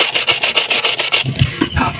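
Sandpaper rubs against a bolt and valve shim from a Honda CRF 450R dirt bike, a close, rhythmic back-and-forth rasp of roughly eight strokes, then a looser, softer scraping.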